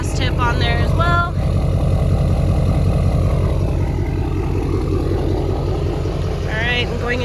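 A deleted 2015 Duramax diesel truck idles through a big exhaust tip, a steady low pulsing rumble throughout, with a voice talking briefly near the start and again near the end.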